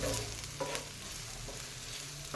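Onion roasting on a cast iron tava, a soft, low sizzle with a few light scrapes and taps, quiet and close, with no speech.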